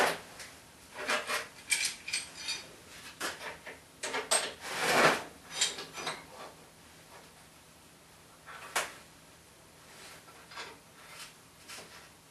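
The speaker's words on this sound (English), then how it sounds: "let's clamp that down on there" Metal braces being clamped onto a blacksmithing guillotine tool, heard as scattered close clanks, scrapes and ratcheting clicks in uneven bursts, with quieter gaps between the handling noises.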